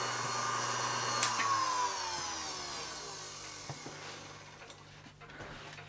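Repaired Sherline 5000 milling machine motor running in a workshop, a steady hum with a whine that slowly falls in pitch as it spins down, plus a few faint clicks.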